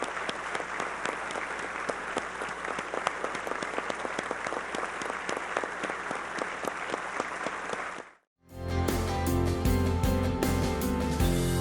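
Sustained applause fills the Chamber of Deputies plenary hall, a dense crowd clapping steadily for about eight seconds before cutting abruptly to music.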